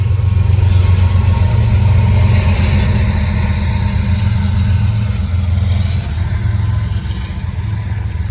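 Norfolk Southern freight train NS 154, running northbound with two locomotives up front and a rear DPU, passes close by with a loud, continuous low engine drone and rumble that eases slightly toward the end.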